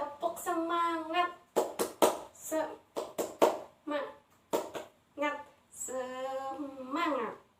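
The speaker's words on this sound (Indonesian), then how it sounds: "Coba kita tepuk semangat dulu" A group of children doing the tepuk semangat, a rhythmic patterned clap used in an online classroom lesson, with short bursts of claps between sung and chanted voices and a teacher's speech close by.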